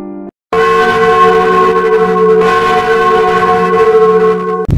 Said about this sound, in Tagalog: tumunog ang kampana sa kampanaryo ng simbahan